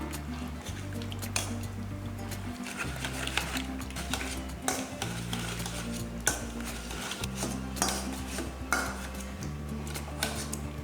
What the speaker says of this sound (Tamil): நல்லா இந்த மாதிரி ஒரு மத்து மாதிரி வச்சுட்டு நல்லா கடைஞ்சிக்கலாம்